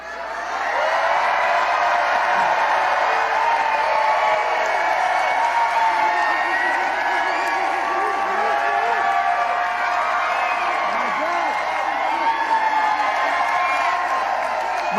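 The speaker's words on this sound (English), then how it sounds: "we got a great crowd here tonight" A large crowd cheers and whoops at a Biden campaign rally in Detroit, a dense and steady roar that lasts throughout, with voices mixed into the noise.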